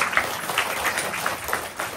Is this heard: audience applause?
yes